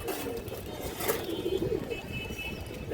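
A female pigeon with ringed eyes, a flying-breed bird, gives a short low coo in the middle of a brief stretch over a constant background hum.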